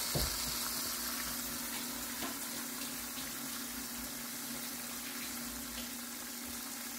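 Water runs steadily from a tap for several seconds as hands are rinsed, a continuous hiss with a faint hum beneath, in a home kitchen where steak is being fried in an electric skillet.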